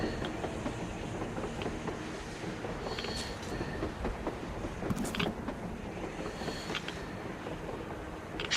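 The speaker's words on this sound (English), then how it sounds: "A train! A damn train on the surface!" A train passing on the surface in the post-apocalyptic shooter Metro Exodus, a continuous rolling rumble with rattling wagons and sharp metallic clicks and squeals, steady and fairly close.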